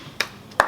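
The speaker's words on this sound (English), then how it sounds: "they call it the double clap" Two sharp hand claps about 0.4 seconds apart, demonstrating the double clap rhythm found in Creole, Caribbean and West African music, close and fairly loud against a quiet background.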